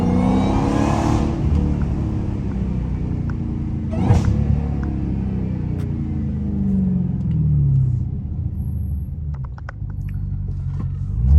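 Straight-piped Dodge Hellcat Redeye engine revving close up, a deep loud rumble that swells and eases across the whole stretch with sharp rev spikes, heard alone without talk.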